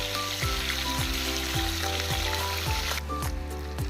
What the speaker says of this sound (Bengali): আরেক পিঠ সুন্দর করে ভেজে নেব।